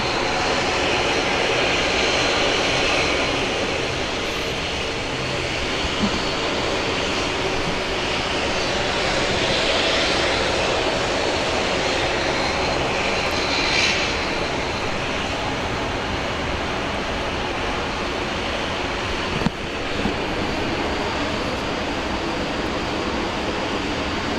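Jet airliner engines roar at Brisbane International Airport, a loud, continuous broadband rumble and hiss that swells slightly midway and stays steady without voices, with one brief sharp click near the end.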